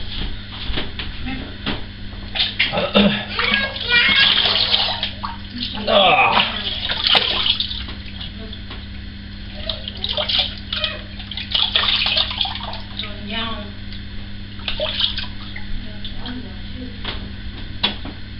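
Tap water running and splashing at a bathroom sink while a face is washed, with irregular splashes and cupped-water sloshes under intermittent talking throughout.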